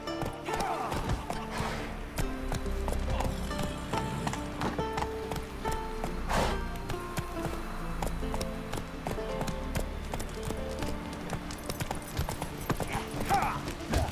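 A horse gallops in The Witcher 3: Wild Hunt, with rapid rhythmic hoofbeats thudding steadily up close, a brief whinny, and background game sounds mixed in.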